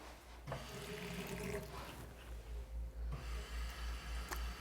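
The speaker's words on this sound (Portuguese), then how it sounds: "Liga a água." Tap water running into a sink for hand washing, a steady close splashing flow with a low rhythmic rumble underneath, no voices.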